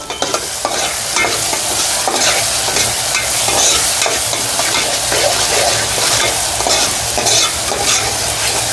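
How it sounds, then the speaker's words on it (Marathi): Mutton curry ingredients sizzle and crackle steadily in a hot pan, with repeated scraping and stirring strokes over the constant frying hiss. "असं मस्त फ्राय करून घ्यायचे"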